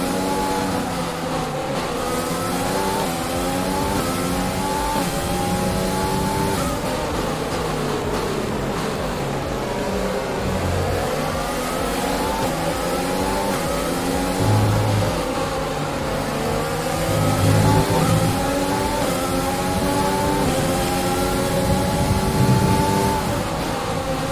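An F1 racing car engine in the video game F1 2020, the engine having lost power and showing significant wear, revs up and down through repeated gear shifts, a continuous close whine with no talk.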